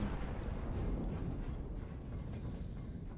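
Explosion in the video game Lara Croft and the Guardian of Light, a heavy low rumbling blast that rolls and decays over a few seconds, fairly quiet overall, with no talk.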